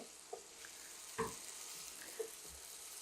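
Parboiled potatoes sauté with spices in a pan for aloo do pyaza, giving a soft, steady sizzle broken by a few brief stirring knocks, with no talking.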